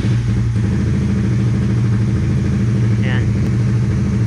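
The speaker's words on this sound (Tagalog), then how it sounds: "So, paandarin natin yung engine." A Suzuki Raider 150 Fi motorcycle engine runs loud and close with a steady, even drone, while a person talks over it.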